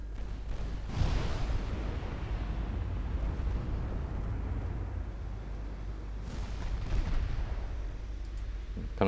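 Secondary guns firing on an enemy ship in the naval battle game Ultimate Admiral Dreadnoughts, heard as a steady rumble of gunfire. Heavier bursts land near the start and again toward the end.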